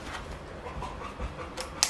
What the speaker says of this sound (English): You can hear the dog panting in the background